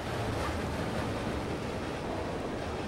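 Water surging and rising in the dark side-scrolling puzzle game LIMBO after a lever is pulled, a steady, dense rushing wash that fills the whole stretch at even loudness with no voices over it.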